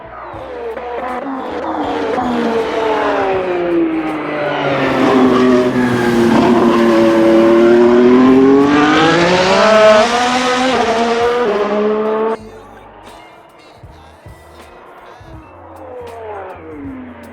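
A Ferrari SF23 Formula 1 car in Assetto Corsa screams past up close, its high-revving engine climbing and sweeping in pitch before cutting off abruptly, followed by quieter lower engine noise.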